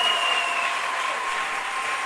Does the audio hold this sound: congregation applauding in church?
yes